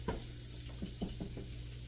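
Food sizzles faintly in a skillet, a soft steady frying hiss broken by a few light scrapes or taps of a spatula.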